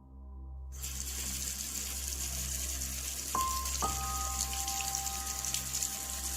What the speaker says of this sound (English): I suddenly heard the sink outside, the faucet, turn on.